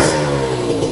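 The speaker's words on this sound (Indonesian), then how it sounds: "Ini setelah ganti silencer pakai DBS yang Titan," Honda NSR motorcycle fitted with an aftermarket DBS Titan silencer, revving steadily at close range with a continuous raspy engine drone and no speech over it.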